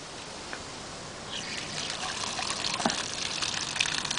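Water from a cheap hose bib on a DIY multiple rain barrel system starts faintly, then swells into a steady, moderately close trickle and splash that runs on with no talking.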